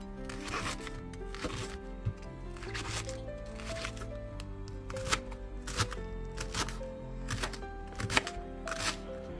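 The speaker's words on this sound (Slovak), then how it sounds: "Ja si dám pór. Nakrájam na drobno" A knife chops leek finely on a board in a home kitchen for mushroom soup, giving a series of crisp, close taps in an uneven rhythm, with background hum and no talk.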